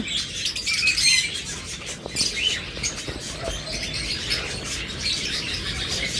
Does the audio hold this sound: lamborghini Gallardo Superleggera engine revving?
no